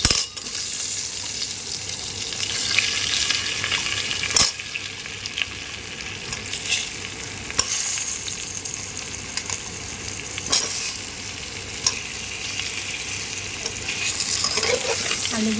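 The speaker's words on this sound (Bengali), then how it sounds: "আলুগুলি একটু লাল লাল করে ভাজা ভাজা করবো।" Potatoes frying in oil in a kadai after bay leaf and cumin seeds, a steady close sizzle broken by repeated metallic scrapes and taps of the stirring spoon.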